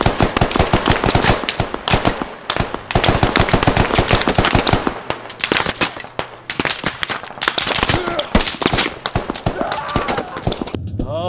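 Gunfire in the video game Squad during a large 50v50 battle: loud, dense volleys of rapid automatic fire crackle almost continuously, with brief gaps and a voice heard in places.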